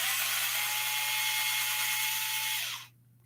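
A cordless drill whines steadily while backing out screws to remove servos from a Traxxas Revo RC truck, a high continuous buzz for nearly three seconds before stopping abruptly.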